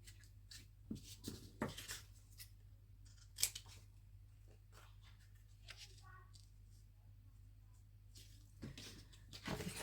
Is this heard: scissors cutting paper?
yes